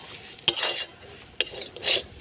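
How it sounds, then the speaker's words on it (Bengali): Potato tossed with homemade roasted spice mix in a kadai is stirred with a metal spoon: two sharp scraping clinks against the pan, each followed by a short sizzling rustle, over a quiet background. "খুব ভালো করে মিশিয়ে নেব।"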